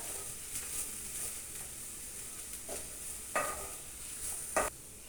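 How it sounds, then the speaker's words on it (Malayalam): Chili powder and turmeric powder are stirred in a pan over a steady low sizzle, with a few sharper scraping strokes from a spoon against the metal and no voices. "നന്നായിട്ടൊന്ന് ഇളക്കി കൊടുക്കാം."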